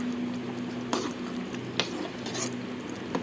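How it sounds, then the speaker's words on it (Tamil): Dry fish being stirred gently into a boiling village-style karuvattu kuzhambu gravy in a pot, with soft scraping and a few sharp clinks of the utensil against the pot over a low bubbling simmer. "கருவாடு வந்து தனித்தனியாக சேர்த்து இந்த மாதிரி நல்லா உடையாத அளவுக்கு கிளறி விடுங்க"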